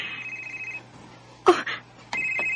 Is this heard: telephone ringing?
yes